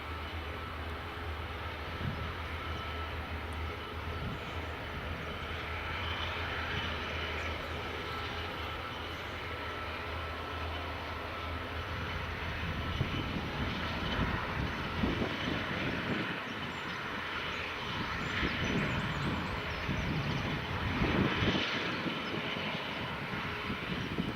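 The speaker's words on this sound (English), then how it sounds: "Next inbound will be the Sun Express 737-800, so that's just coming in." A Sun Express Boeing 737-800 arrives at Edinburgh Airport, a distant, steady jet roar with a low drone that swells gradually, heard from afar in open airport surroundings without voices.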